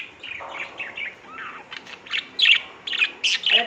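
Caged pet birds chirp in quick, bright bursts, some faint and some loud and close, with short pauses between calls and no talking.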